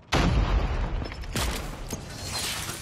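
Rapid gunfire from an EM2 rifle in a ranked multiplayer shooter match, with a loud opening burst followed by sharper single cracks and continued shots against busy game noise.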